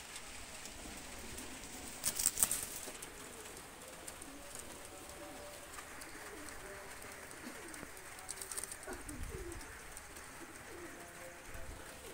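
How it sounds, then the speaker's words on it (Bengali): A pair of young Oman Teddy pigeons coo faintly at a distance, with a brief louder burst near the start and soft, sparse calls over quiet room noise. "চরম স্ট্যান্ডিংয়ের কবুতর, দুইটা কবুতর"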